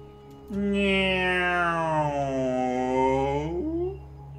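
A drawn-out, wavering meow voiced by a person imitating a cat, rising and falling in pitch over about three seconds, close and fairly loud over a low steady hum.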